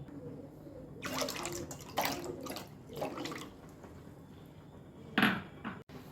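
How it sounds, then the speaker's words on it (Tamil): Water splashes and pours in short bursts into a pot of tamarind kuzhambu, faint and close, with a louder splash near the end and a brief clunk. "மிக்ஸ் பண்ணிவிட்டு இதில் கொஞ்சமாக தண்ணி சேர்த்துக்கலாம்."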